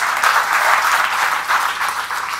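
A crowd breaks into steady, loud applause, a continuous dense patter of many hands clapping close by without pause.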